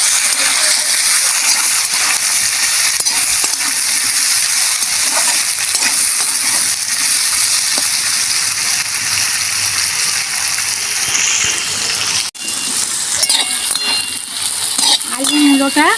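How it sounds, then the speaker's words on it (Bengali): Potato and radish frying in a pan with turmeric and chili powder, a continuous close sizzle with occasional stirring scrapes and one sharp clink near the end, no talking. "এবার আমি ভালো করে ভাজবো।"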